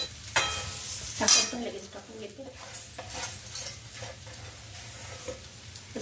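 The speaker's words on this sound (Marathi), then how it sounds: "मी आता हा नारळाचा किस टाकून दिला आणि थोडा वेळ छानपैकी मॉइश्चरायझर जाईपर्यंत तर मी हे परतून घेणार आहे मस्त तुपामध्ये" Grated fresh coconut stirred and sautéed in ghee, a soft sizzle with scraping spoon-on-pan clatter and clinks, a speaking voice over it.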